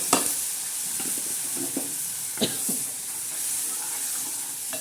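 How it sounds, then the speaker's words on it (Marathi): Masala sizzles and fries in a pan and is stirred, a steady soft hiss broken by scraping clicks of the spoon, near and with no talk. "हे बघा असं मस्त फ्राय करून घ्यायचा मसाला"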